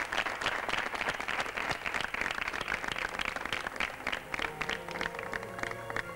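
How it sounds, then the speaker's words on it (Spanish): Audience applause fills a Passion play performance in Morata de Tajuña just before the actors begin, a dense, steady clapping throughout with a faint tonal hum emerging near the end. "Vamos a recibirles con un aplauso mientras que ellos se prestan a comenzar."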